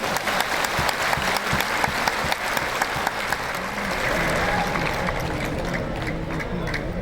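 A large audience fills the Bapu auditorium in Patna with loud, sustained applause at a Jan Suraaj political rally, the dense clapping steady for the whole stretch with crowd noise mixed in.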